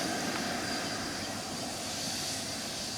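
Steady, loud, continuous roar of a Freewing Eurofighter Typhoon RC jet with a 90mm electric ducted fan at full thrust, a broadband whooshing rush that holds constant throughout.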